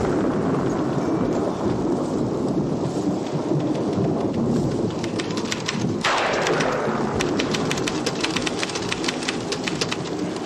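Heavy rain pours steadily on a dark, stormy night while a sharp thunder crack splits the downpour midway, followed by scattered drips and patters, loud and close throughout.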